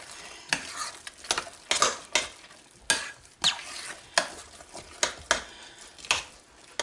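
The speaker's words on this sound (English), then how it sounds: "all we're going to do is mix this up well" Spoon mixing mashed potato salad with egg, salt and pepper in a bowl, heard as close, rhythmic wet stirring strokes repeating about once a second.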